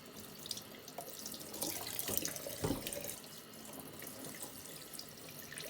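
Tap water runs steadily into a kitchen sink while three fresh herring are rinsed on the outside, a close, continuous splashing stream with brief surges as the fish move under the flow.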